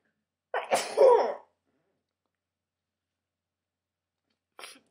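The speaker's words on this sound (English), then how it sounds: "sorry, I'm gonna sneeze." A single loud sneeze with a sharp intake and burst, followed by silence and a brief faint sound near the end.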